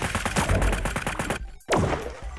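Rapid bursts of automatic gunfire in the video game Sausage Man, a dense loud volley of shots followed by a brief pause and another sharp blast, with no talking over it.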